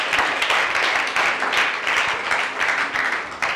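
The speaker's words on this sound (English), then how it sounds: "Give them a round of applause" Audience at a secondary school debate applauding, a dense, steady wash of many hands clapping at once, loud and sustained throughout with no break.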